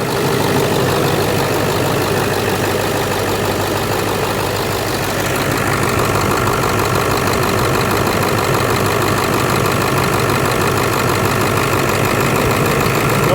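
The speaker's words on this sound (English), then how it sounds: "She just went into high idle to warm herself up." A 2001 Ford Excursion Limited with a 7.3L Powerstroke diesel runs at high idle while warming up, a loud, close, steady clattering drone with a slight shift in pitch midway and no talking.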